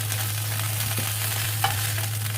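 Chicken pieces frying in hot oil for mafe give off a steady, close sizzle with faint stirring and a low hum underneath, and no one speaks.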